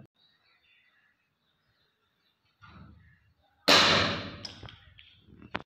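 A Diana 35 air rifle fires a Pro Magnum pellet at a small target: one sharp, loud crack after a quiet stretch and a brief soft rustle, followed by a short ringing decay and light handling noise.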